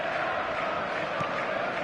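A football stadium crowd in a video game makes a steady, broad roar that holds at an even level throughout, with no clear peaks of cheering.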